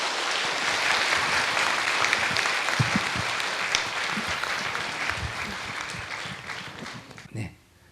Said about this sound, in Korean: 잘했어. 박수 쳐주세요.